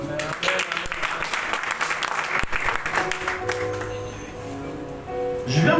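A church congregation breaks into loud, dense applause and cheering that gradually thins out, with voices talking and calling over the clapping.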